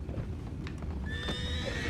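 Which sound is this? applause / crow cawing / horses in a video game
horses in a video game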